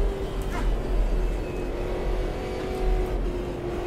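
Stock car engine from the Automobilista 2 racing game on a lap of the Galeão circuit, a steady, droning hum holding a fairly even pitch with slight rises, no braking or shifts standing out.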